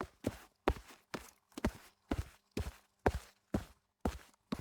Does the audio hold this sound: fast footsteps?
yes